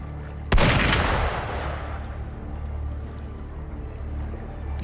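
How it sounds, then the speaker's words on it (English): A sharp gunshot blast in the video game Wuthering Waves cracks out near the start, then rumbles and decays into a low, steady ambient drone. "Gunfire! We've got intruders."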